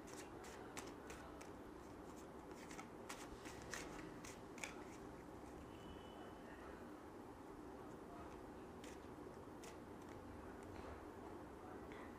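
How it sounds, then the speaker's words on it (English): Tarot cards being shuffled by hand, a steady papery riffle and clatter of card edges running throughout with brief sharper snaps, close and moderately quiet, with no talking. "today my shuffling is really messed up"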